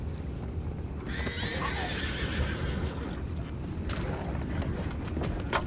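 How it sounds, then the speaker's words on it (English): Horses in Red Dead Redemption 2 whinny loudly over a steady outdoor bed of hoof clip-clop and creaking tack, one long neigh rising in the middle and sharper snorts and clatter toward the end, with no talk. "You mind the horses?"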